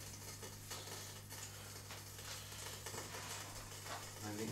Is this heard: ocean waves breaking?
no